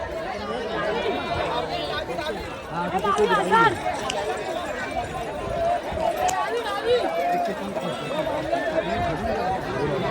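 Bullock cart race getting underway in rural Maharashtra, with bullocks running amid a loud, chattering crowd; hoof and cart noise mix with steady shouting and voices throughout.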